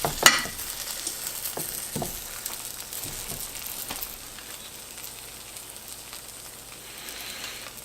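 Food cooks in a Blue Diamond pan over a stovetop flame, a soft continuous sizzle with a few sharp clinks and taps near the start, fading to a quiet steady hiss.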